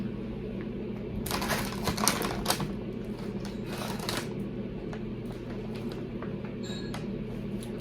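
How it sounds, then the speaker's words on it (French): Plastic bags of candy rustling and crinkling as they are shaken together, a close, steady shuffle that swells in the middle and eases off toward the end, with no talk. "Je vais mélanger les sacs."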